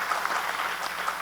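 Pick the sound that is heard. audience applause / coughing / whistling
audience applause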